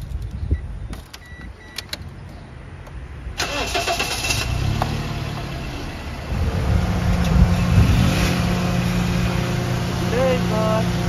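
A car engine in Suriname cranks and catches a few seconds in, then settles into a steady running hum that grows slightly louder as the car begins to move.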